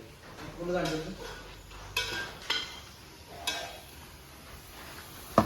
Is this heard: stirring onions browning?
yes